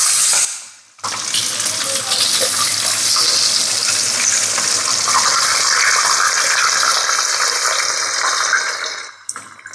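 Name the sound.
hilsa fish frying in mustard oil in a pan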